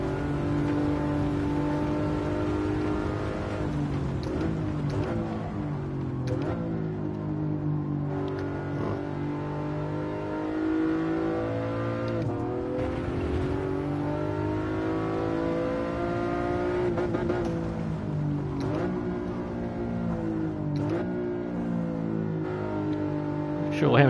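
A car engine drones and revs steadily while being driven on the road, with pitch rising and falling through gear changes throughout; a voice talks over it.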